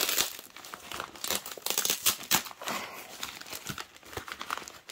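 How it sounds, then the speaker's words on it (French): Outer plastic bags being pulled off a newly arrived cross-stitch kit, with steady loud crinkling and tearing rustles running throughout, no talk. "Je vais enlever les sacs extérieurs."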